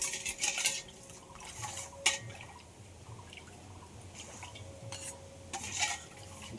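A spoon clinks and stirs against a container as ground coriander leaf paste is mixed into a raw mango and sago sherbet, soft liquid swirls punctuated by several sharp metallic taps.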